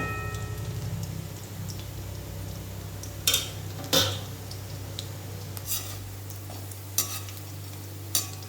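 Chicken roast sizzles softly in a pan while being stirred, with a few sharp scraping clinks of the utensil against the pan over a steady low hum.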